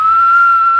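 A voice imitates a whistle being blown, holding one bright, loud, steady whistled note for under a second, close up and alone.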